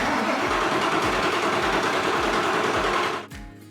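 A Ford F350 with a 7.3 diesel cranks slowly on a jump pack. It makes a loud, steady, labored whir with a regular thumping rhythm for about three seconds, then the cranking stops abruptly.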